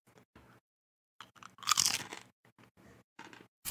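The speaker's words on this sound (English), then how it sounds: "I want to see if you can guess the flavor from the crunch." Barbecue-flavored potato chips crunched and chewed close to the microphone, with scattered short crisp bites building to one loud crunch, then smaller chews.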